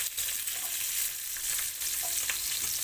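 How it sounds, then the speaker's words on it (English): Onion, green chilies, bay leaves and peppercorns sauté in a pan for Filipino lechon paksiw. A loud, dense, close sizzle holds steady throughout, with faint stirring clicks and no voices. "And we just have to saute this"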